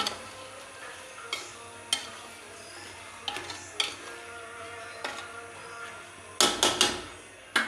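A spoon stirs tomatoes into a chicken curry in a pan, with a low sizzle throughout and sharp clicks and scrapes of utensil against metal at irregular intervals, a louder cluster of knocks near the end.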